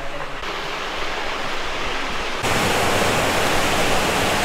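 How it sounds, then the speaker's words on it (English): A waterfall on the way to Wentworth Falls in the Blue Mountains, a steady broadband rush of falling water close by that swells louder partway through and then holds constant, with no voices. "This is not Wentworth Falls, but it is a waterfall leading to Wentworth Falls."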